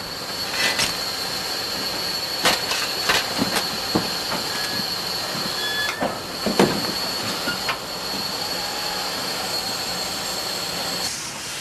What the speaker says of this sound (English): steam was the sole means of traction on the Avontuur line.